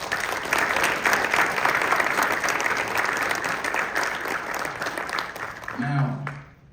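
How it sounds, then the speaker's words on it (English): A graduation audience gives a round of applause, with thick, sustained clapping from a large crowd that carries on evenly and then tapers off near the end, with some voices mixed in. "Let's give her a round of applause"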